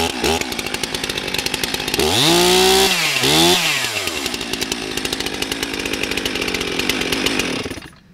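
A STIHL MS362 chainsaw runs loud and close, idling with a rough buzzing chatter and then revving sharply twice into high-pitched screams before settling back to a steady idle.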